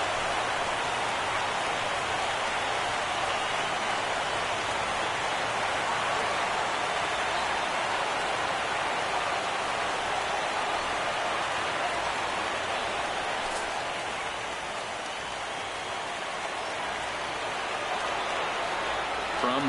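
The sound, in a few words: rain falling in MLB baseball video game on PS4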